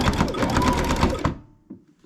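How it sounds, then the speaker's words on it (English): A Baby Lock Jazz II sewing machine stitches quilt binding at an inside corner, a rapid, close, rhythmic needle clatter that runs for about a second and a quarter before stopping, followed by a couple of small mechanical clicks. "I continue stitching, catching the needle in this corner here"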